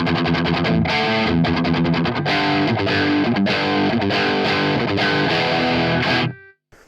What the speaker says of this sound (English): this is just the guitar amp on its own with no distortion at all in the front end